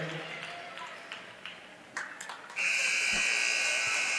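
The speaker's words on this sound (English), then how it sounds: "And that is the final buzzer." A final buzzer sounds at the close of a girls varsity basketball game in a gym, a loud steady electronic tone taking over for the last seconds after crowd noise and commentary.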